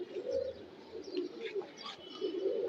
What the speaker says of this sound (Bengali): 31 কবুতরের মধ্যে একটা লাল খাকি, মাশাআল্লাহ খুবই সুন্দর একটা কবুতর